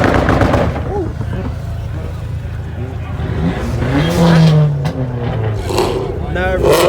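Cars at a car meet, among them Mustangs, a Charger and Audi R8s, revving and popping loudly nearby in sharp bursts and rising roars, with people talking throughout.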